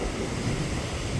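Strong storm wind sweeps the coastline at Mathagal in Jaffna, lashing the coconut palms along the shore, a dense, continuous roar of rushing air and buffeting with no break.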